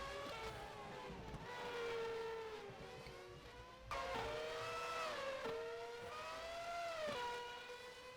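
Formula race car engines in a Raceroom racing game at a Morocco circuit wail at high revs, pitch climbing and dropping through gear shifts, with other cars buzzing nearby and no talk.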